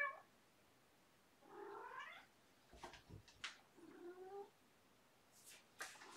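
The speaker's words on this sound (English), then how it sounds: "Time for the 2 a.m. cat wars, and she is not in heat." A cat caterwauls at night in a quiet room, giving several drawn-out, wavering yowls separated by silences, with short sharp noises and thin squeals in between, all fairly faint.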